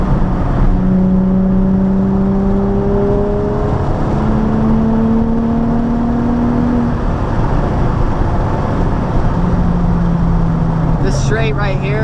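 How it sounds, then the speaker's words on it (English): Nissan 350Z engine pulling hard through third gear on a short straight at sunset, a loud steady rising drone heard from inside the car, with a voice speaking briefly near the end. "it's just enough to get like, you know, one good third gear pull"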